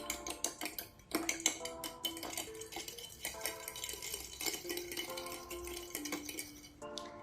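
Bread dough ingredients for soft milk bread, including sugar, egg and yeast, being mixed in a bowl: a quick series of clinks, taps and scrapes of utensil against bowl, moderately close and uneven in rhythm.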